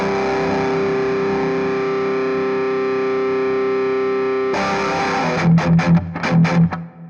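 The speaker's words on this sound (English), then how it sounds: "this is without the pedal, right? With the Precision Drive." Electric guitar played through the Fractal VP4 Precision Drive distortion with no pedal, a loud sustained distorted chord ringing for several seconds, then a burst of rapid choppy palm-muted hits near the end.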